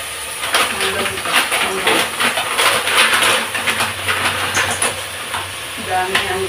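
Ingredients for ginisang monggo being sautéed in a pan, a continuous loud sizzle with steady hiss and occasional stirring clatter, with a voice talking over it.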